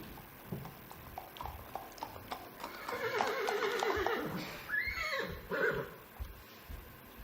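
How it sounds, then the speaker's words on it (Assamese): A horse in a village clip-clops on hard ground with scattered hoof beats, then gives a loud whinnying neigh midway and another shorter call shortly after, heard nearby against a quiet outdoor background. "এই ঘোঁৰাৰ খুৰাৰ শব্দ শুনা দৰে পাওঁ"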